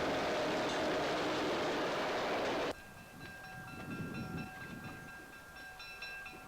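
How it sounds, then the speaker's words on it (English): Near and loud, a train grinds across a road in northern Maine, a dense rumble that cuts off abruptly; a quieter tonal horn-like ring and softer rolling noise follow. "our train emerges from the wilderness of northern Maine and crosses Route 11"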